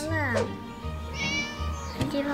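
Several high, tonal cat meows from the video game Scary Teacher, a bit synthetic in quality, repeated over a steady low hum and a constant background tone.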